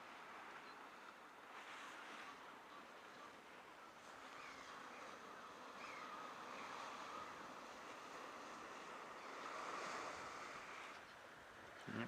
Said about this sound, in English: as these waves come in, you'll see these penguins will have to shift further up the beach